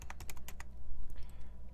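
Rapid, clattering keystrokes on a computer keyboard during a Stellaris session, a quick burst of close, crisp clicks that thins out into sparser taps.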